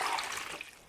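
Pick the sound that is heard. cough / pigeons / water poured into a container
water poured into a container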